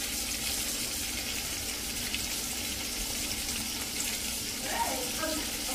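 Marinated, coated pieces deep fry in hot oil with a dense, continuous, even sizzle, close and steady from start to finish.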